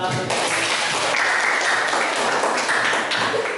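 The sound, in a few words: audience applause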